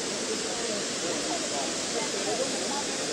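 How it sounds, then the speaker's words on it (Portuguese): A waterfall on a park trail in Bonito, Mato Grosso do Sul, pours as a dense, steady roar of wash and hiss, with people talking over it. "A cachoeira do amor."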